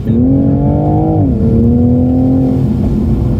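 An MK5 Toyota Supra engine revs loud and close in the mountains, a throaty drone that dips in pitch mid-way, then holds steady again.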